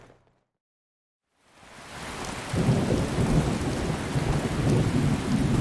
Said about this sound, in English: It's raining pretty hard considering how far away the heart of the storm is.